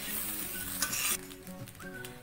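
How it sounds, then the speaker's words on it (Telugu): Vegetable fried rice with chopped coriander being stirred in a pan, with clinking utensil scrapes over a faint sizzle in a brief close burst. "ఇప్పుడు సన్నగా కట్ చేసుకున్న కొత్తిమీర వేసుకుందా చూడండి ఇలా బాగా కలుపుకోవాలి"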